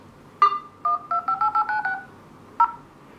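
A series of short keypad beeps from a OnePlus One phone's dialer, one tone, then a quick run of six or seven, then a final one, fairly close against quiet background hiss.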